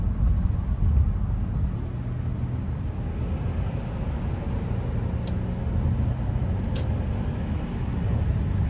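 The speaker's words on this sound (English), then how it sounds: "Engine sounds good. It does not sound like it's being like wound out or stressed." A 2003 Lexus ES300 V6 engine idles steadily, giving a smooth, even low rumble with no revving, heard at a constant level throughout.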